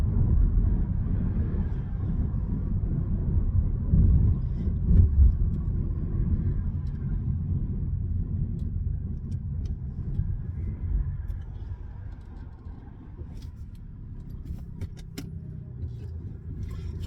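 A large vehicle rolls through a roundabout on the road from Grays to Laindon, a steady low engine rumble and road noise from inside the cab, easing slightly toward the end.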